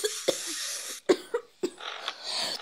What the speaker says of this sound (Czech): ty tak kašleš z toho spreje?